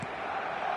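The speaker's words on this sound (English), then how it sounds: "Now the crowd are demanding that they just finish this off." A stadium crowd in the eFootball video game gives off a steady, dense roar of many voices, continuous and fairly loud throughout the short stretch, with no distinct commentary on top.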